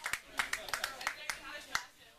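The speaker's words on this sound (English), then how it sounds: "So let's give a round of applause for yourself." A small bar audience claps sparsely, a handful of sharp, separate hand claps scattered irregularly at close range, with talk in the background.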